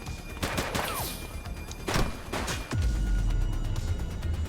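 Gunfire in The Precinct, a few sharp separate shots early on followed by a low rumbling crash, loud and close, with only faint speech.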